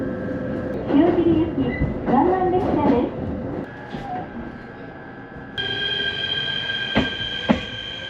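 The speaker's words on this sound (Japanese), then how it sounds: "中央本線も動き出します" A train on the Chuo Main Line rumbles and squeals as it pulls away from Tatsuno Station, wheels screeching with a rising whine, a chime and clicks near the end.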